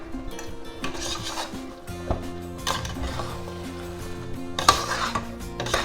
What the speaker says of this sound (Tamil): நல்லா மிக்ஸ் பண்ணி